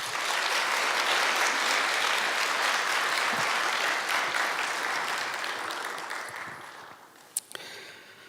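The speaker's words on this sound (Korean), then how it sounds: "우리 다시 한번 큰 박수로 환영하도록 하겠습니다." Sustained applause from a large church congregation welcoming a pastor, loud at first and then slowly thinning out, ending with a few scattered claps and a thump.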